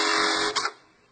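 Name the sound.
Juki bartack sewing machine cycling through pattern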